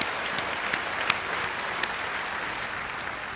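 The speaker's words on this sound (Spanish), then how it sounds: "Démosle un fuerte aplauso." Congregation clapping in a church service after an Easter sermon, a full, even round of applause from many hands, steady and moderately loud, with occasional sharper claps popping out of the wash.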